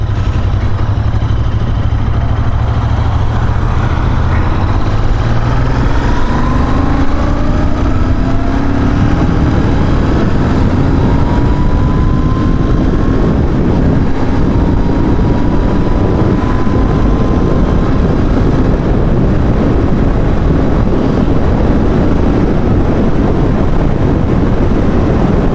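Royal Enfield Interceptor 650 motorcycle riding with engine droning continuously and loudly, pitch rising and falling through throttle and gear changes, with heavy wind rumble throughout.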